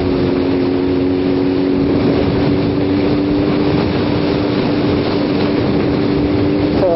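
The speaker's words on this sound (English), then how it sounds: "There's a little bit of wind there." Steady wind roar buffeting a rider on a moving motorcycle in winter, a continuous broadband rush with a faint engine hum running beneath it, close and constant throughout.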